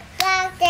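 A child claps alone, two sharp hand claps about half a second apart, close by and partly covered by a sung, held voice.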